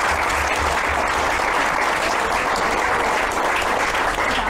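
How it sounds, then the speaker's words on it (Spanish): A large audience bursts into loud, sustained applause, thick and continuous clapping filling the space throughout. "Un aplauso."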